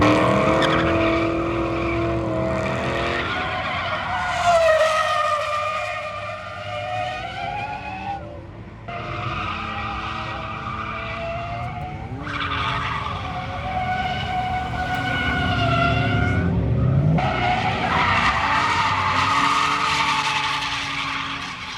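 A BMW E46 wagon drifts on a track near a mountain, its engine revving hard in long surging pulls while the tires squeal and skid in sustained bursts, loud and close throughout.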